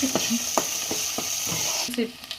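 Turmeric is stirred into a fish curry masala in a hot pan for chepala pulusu, repeated spoon scrapes against the pan in a steady rhythm over a constant close sizzle, with no talk.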